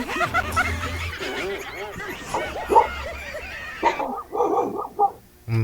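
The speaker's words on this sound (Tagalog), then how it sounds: "Tumahol yung aso." A few short dog barks and yips mixed in with people chattering and chuckling nearby, the barks brief and mid-loud.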